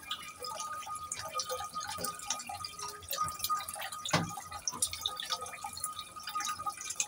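A pet duck named Lily bathes in water, sending up a continuous patter of drips and small splashes at close range, with one brief louder splash partway through.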